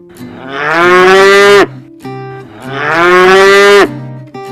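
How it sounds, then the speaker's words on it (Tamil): A cow moos twice, loud and close, each call a long, rising bellow lasting over a second, separated by a short pause. "இதுதான் நம்ம மாடு"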